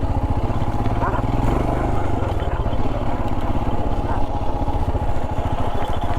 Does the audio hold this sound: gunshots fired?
no